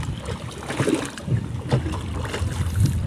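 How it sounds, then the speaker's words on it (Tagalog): A non-motorized wooden boat is paddled along, with rhythmic splashy strokes about every second over steady wind and water noise, close to the microphone. "Yung walang makina, bugsay-bugsay lang."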